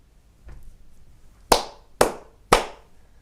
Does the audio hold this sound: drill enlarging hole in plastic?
no